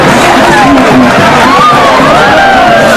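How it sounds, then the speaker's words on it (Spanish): A loud crowd cheers and shouts at a bullfight during the 2007 León, Guanajuato fair, a dense roar of voices with whistles and calls filling the whole stretch, with no clear clapping standing out. "¡Aplauso fuerte!"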